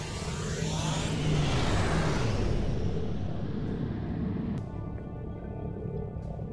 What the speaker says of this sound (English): Plot a course, and hit the slipstream.